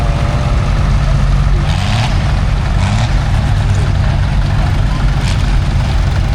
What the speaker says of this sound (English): here we see a Perkins diesel powered Fordson Major pulling a Ford.